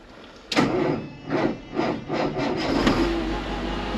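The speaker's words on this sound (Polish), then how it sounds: "Ej, no zapali." A Case IH Steiger 9350 tractor engine cold-starts, cranking in several labored, rhythmic pulses, then catches and settles into a low, steady idle rumble, close and fairly loud.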